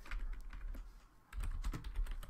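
Steady typing of a code comment on a computer keyboard, a quick run of soft clicking keystrokes, close and fairly continuous with a brief lull partway through.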